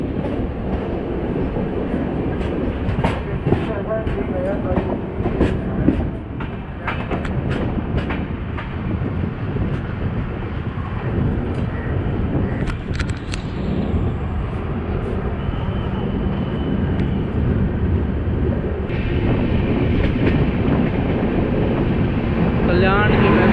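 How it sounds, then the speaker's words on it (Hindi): Humsafar Express train running near Shivaji Bridge in Delhi, a loud continuous rumble of wheels and carriages with clattering rail joints, heard close by from trackside or onboard, with brief talk in the first seconds. "ये है हमसफ़र एक्सप्रेस।"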